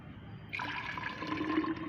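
Water is poured into a clove-infused water mixture being diluted for a plant tonic, giving a soft, steady liquid splash and trickle that starts partway through and continues at low volume, close by with no talking.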